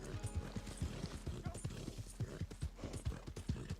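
Rhythmic clip-clop of a Tennessee Walker or Morgan horse's hooves at a steady riding gait in Red Dead Redemption 2, close and even, with faint game ambience.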